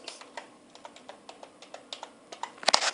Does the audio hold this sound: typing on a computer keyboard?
yes